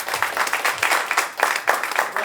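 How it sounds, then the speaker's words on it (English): Audience at a Black boys and men symposium applauding, a lively burst of clapping that swells in rhythmic waves, fairly close and loud throughout. "Let's give him another round of applause."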